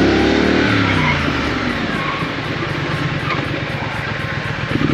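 A Triumph Street Scrambler motorcycle braking hard with ABS pulsing, a loud, close rush of engine and wind noise with a fast steady flutter, no talk over it.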